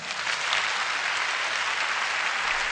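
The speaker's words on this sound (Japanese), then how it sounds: "盛大な拍手を持ってお迎えください。" Dense, steady audience applause fills a concert hall, welcoming a singer onstage at a tribute live event, loud and sustained throughout without a break.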